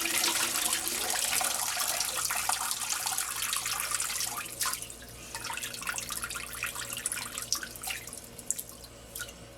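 Washed basil being drained of water, with a steady close splashing and trickling that eases into uneven drips and small spatters, no voices.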